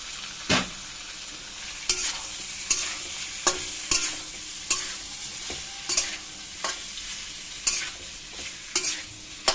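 A spatula scrapes rhythmically through fried potatoes and soybean chunks with spices in a pan, sharp regular strokes about once a second over a soft, steady sizzle, close by with no talking.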